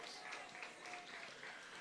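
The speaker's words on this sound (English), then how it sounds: "Give yourselves a round of applause." An outdoor crowd at a market groundbreaking ceremony claps in a brief burst of applause, faint and somewhat distant, with a voice speaking over it.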